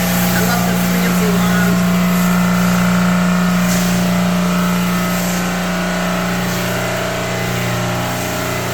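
A gas-powered pressure washer engine drones loud and steady with a constant hum throughout, a spray hiss mixed in and a voice heard talking over it.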